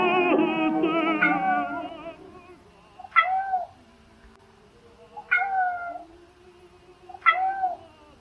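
A cat meows repeatedly in a commercial, with a long drawn-out call followed by three shorter, evenly spaced meows, clear and close with little else around.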